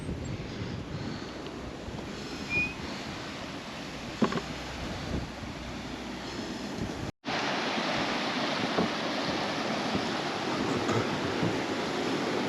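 Langden Brook tumbling down from the fells in the Forest of Bowland, a steady broadband rush of flowing water heard close by, with wind buffeting the microphone and a brief dropout midway.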